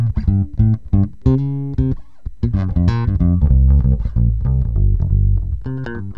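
Yamaha TRB bass guitar played on the neck pickup, with a warm, full tone: a run of plucked notes, some short and separated, others sustained, all heard alone with no talk.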